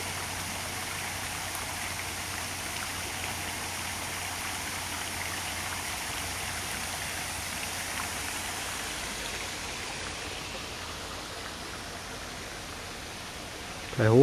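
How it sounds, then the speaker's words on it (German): The Gladbach waterfall near Glattfelden, a small stream cascade, gives off a steady, broad rushing roar that stays even and close throughout, with no talk over it. "Der zweite Wasserfall, Gladbach."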